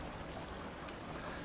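Falling water in the Dungeons & Dragons Online video game, a steady, even rushing wash of noise that holds at a constant level for the whole brief moment.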